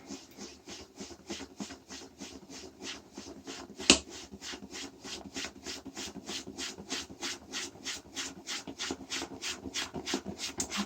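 A toilet brush is scrubbed with cleanser in quick, even back-and-forth strokes, a close, continuous scratchy rubbing with one sharp snap partway through.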